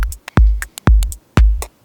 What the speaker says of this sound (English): So I'm gonna take our drum loop,